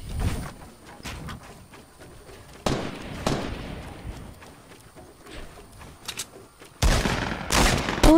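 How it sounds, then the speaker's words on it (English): Bursts of video game gunfire sound as sharp cracks and short rattling volleys, separated by quieter stretches and growing denser and louder toward the end. "Hey, don't shoot at us!"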